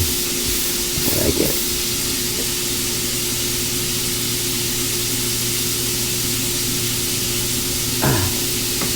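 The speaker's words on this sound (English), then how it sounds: "So I'm frying chicken here." Oil sizzles and hisses steadily in a pan of frying chicken, a continuous crackling spray with a couple of brief clatters.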